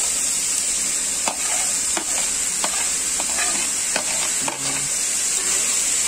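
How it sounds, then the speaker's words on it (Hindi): Chicken and onions fry with a steady loud sizzle in a pan, while a spoon scrapes and stirs in regular strokes roughly every half second, and no one speaks. "अब हम इसे अच्छे से तल लेंगे।"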